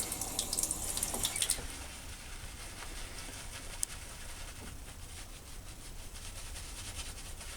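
Water runs steadily from a tap during a shave with a lathering brush, a continuous close splash and hiss with a few brief clinks and rubbing sounds, no talking.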